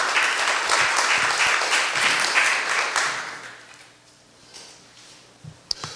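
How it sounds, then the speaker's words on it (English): An audience at a university college of education ideathon applauds a panel. Lively clapping fills the first three seconds, then thins and fades into a quiet room with a few stray claps and small knocks. "Thank you all. Another applause."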